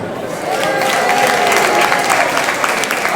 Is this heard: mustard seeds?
no